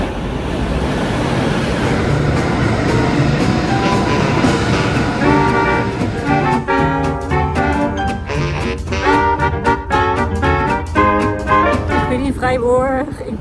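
Train noise at a railway station in Freiburg: a steady loud rumble that builds into rhythmic clattering and squealing, with tonal horn-like or brake tones in the second half and a hiss at the end.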